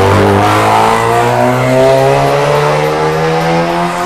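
A touring race car engine revs hard and continuously at close range, its loud harmonic whine climbing and holding steady throughout with no voices over it.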